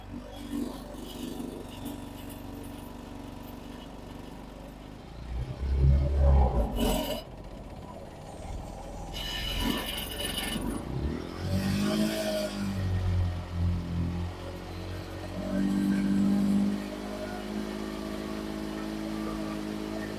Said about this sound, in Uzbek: Endi buni chappa qilish jarayonini ko'rsatib o'tamiz.